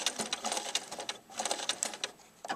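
A sewing machine stitches in short back-and-forth bursts of rapid mechanical chatter as a seam is reinforced by reversing and going forward, with brief pauses between runs, close up and fairly loud, with no talking.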